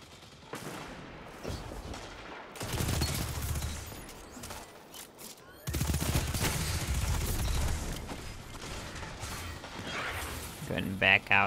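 SMG gunfire in Destiny 2, rapid bursts of automatic shots in two long stretches separated by a brief pause, fairly loud, with someone talking over parts of it.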